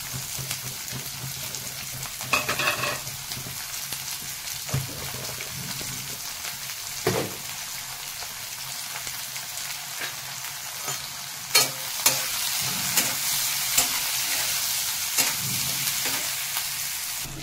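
Onions sizzle steadily in hot oil with cumin, a continuous crackling fry broken by a few scraping stirs and clinks near the pan, no voices.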